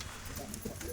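Pigeons coo softly in a loft, a faint low murmur continuing under background hiss for a brief moment.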